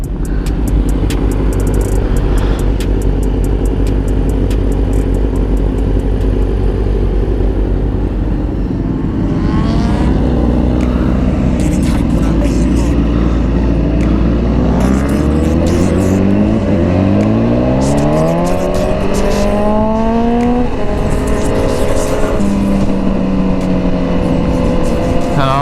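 Several motorcycles idle, start and ride off from a large motorcycle event, loud and close, their engines revving and rising in pitch as they pull away one after another amid steady exhaust rumble.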